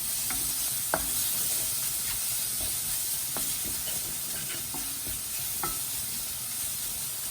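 Vegetables for chilli chowmein sauté in a hot pan with a continuous soft sizzle and hiss. Sharp spatula clicks and scrapes recur throughout, close and fairly quiet, with no talk.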